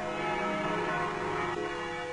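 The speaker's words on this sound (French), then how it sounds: "Il remet au son une cloche en réglant le battant pour qu'il frappe la partie la plus épaisse de la cloche" A resonant church bell tone rings steadily and sustains throughout, its clapper set to strike the bell's thickest part, with dense overtones and no talking.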